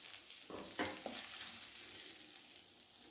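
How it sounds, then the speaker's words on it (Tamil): Grated coconut and masala roasting in oil for a brinjal kuzhambu, a soft continuous sizzle with a few scraping stirs near the start, no talking. "இது எல்லாத்தையும் போட்டு நல்லா இந்த எண்ணெயிலே நம்ம கொஞ்சம் பச்சை வாசம் போகிற அளவுக்கு வறுத்து எடுத்துடலாம்"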